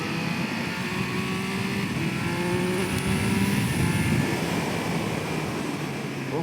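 A 2021 Triumph Speed Triple 1200 RS motorcycle's engine pulls hard under acceleration, a loud continuous roar with rising tones and heavy wind rush, no talk.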